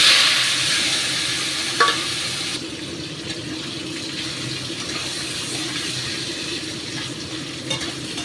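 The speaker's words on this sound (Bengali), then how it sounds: "তেল গরম হয়ে গেছে, এবার আমি পনিরগুলো ছেড়ে দিচ্ছি।" Paneer pieces frying in hot oil for a vegetarian paneer bhapa, a steady broadband sizzle with stirring noise and a couple of brief clinks, continuous and close, with no talking.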